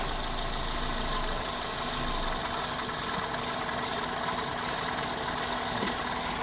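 A car engine idles with a failing alternator, a steady mid-pitched hum with a faint whine and subtle shifts in load as the charging cuts in and out, continuous and close with no talking.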